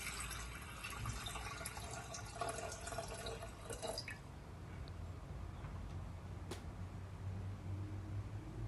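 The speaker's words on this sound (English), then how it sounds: "Place 1 liter of warm water into a pot." Steady rushing water, one liter of warm water poured into a pot, for a few seconds, then fades to a softer trickle and low background noise.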